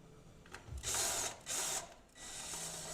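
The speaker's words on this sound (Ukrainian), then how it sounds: "закрутити по два болти з однієї сторони" Bolts being tightened with a ratcheting tool while a Titan Hourse electric scooter is assembled, several short bursts of rapid clicking whir close by, with no talking.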